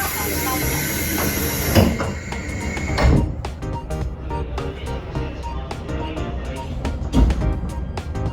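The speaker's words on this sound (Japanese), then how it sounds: "列車は定刻通り西船橋駅を出発しました。" JR East 253 series electric train pulling out of Nishi-Funabashi station, heard from inside the car with a steady low rumble and rhythmic wheel clicks, plus a couple of louder thumps.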